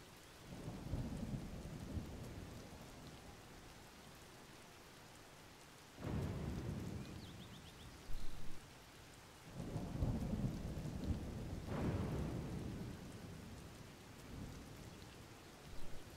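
Thunderstorm with steady rain in the open world of Zelda: Tears of the Kingdom, with two loud rolling thunder bursts about six seconds apart over a constant rain hiss and no talking.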